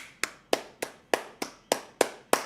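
Seven sharp, evenly spaced claps from a single pair of hands, close and fairly loud, ringing out alone in a quiet room as applause for the woman who helped with a cosplay.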